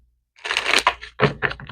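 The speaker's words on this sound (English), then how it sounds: "One more shuffle." Tarot cards shuffled by hand in a quick close riffle of crackling, papery bursts, a dense rush followed by a few shorter separate flicks.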